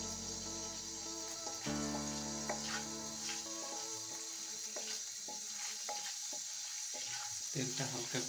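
Oil warms in a pan on the stove for a tuna fish recipe, giving a soft, continuous sizzle under sustained musical tones in the background.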